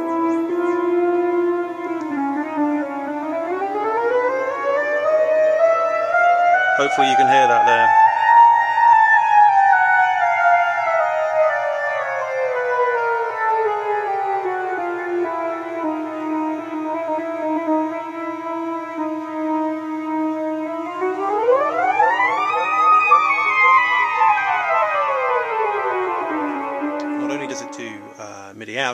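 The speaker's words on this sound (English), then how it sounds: "if I fade up the actual theremin sound" A laser harp playing a theremin-style sound gives smooth, siren-like pitch glides that rise and fall slowly and loudly over about half a minute, with a brief spoken remark near the start.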